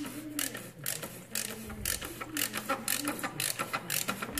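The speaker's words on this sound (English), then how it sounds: "You can use a 15/16 socket, an extension and a ratchet. Just go ahead and crack that loose." A ratchet on a 15/16 socket with an extension turns to loosen the plastic oil filter cover on a 2012 Dodge Grand Caravan, giving rapid, close-up clicking in short bursts.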